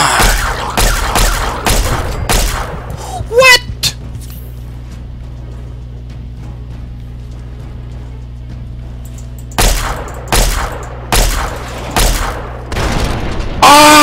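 Rocket launcher blasts in the video game Fallout 3: a cluster of loud explosions up front, then a long quiet stretch with a low hum, followed by several more heavy booms near the end.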